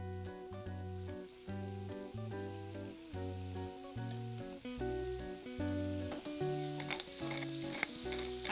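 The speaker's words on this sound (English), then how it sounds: "The beef gets browned first." Beef sizzles as it browns in olive oil and butter in a pan, a steady frying hiss running under a louder repeating background tune.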